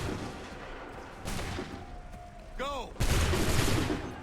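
A video-game volley of gunfire on a shouted command: a short burst of shots, then a louder, broad blast near the end, with a brief whistling chirp just before it.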